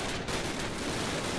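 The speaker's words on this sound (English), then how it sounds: "That's an MG42." MG42 machine gun firing in the Call of Duty World War II D-Day battle, a dense, continuous burst of rapid shots blending into a harsh roar for about a second and a half, loud and without talk.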